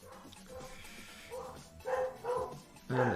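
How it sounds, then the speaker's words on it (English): A dog barks in several loud, close bursts, spaced about half a second apart and growing more frantic toward the end, with faint indoor background noise between the barks. "And the dog's going nuts."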